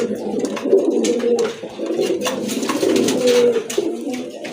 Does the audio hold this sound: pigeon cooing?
yes